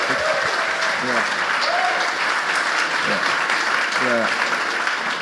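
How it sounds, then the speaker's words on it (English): Audience applause fills the room at a talk about Bitcoin, a loud, steady wash of clapping from a crowd, with a few faint voices and whoops rising through it. "can we give them a round of applause, please?"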